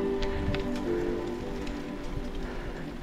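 Steady rain pours down outdoors on the 3 Valli Varesine cycling route, a dense, even hiss of drops pattering on surfaces that holds at a constant level throughout, with no voices.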